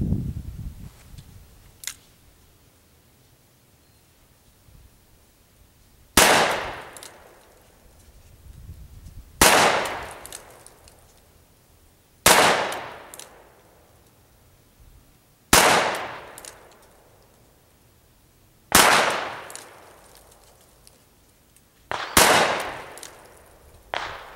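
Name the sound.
gunshots from Smith & Wesson Model 610 10mm revolver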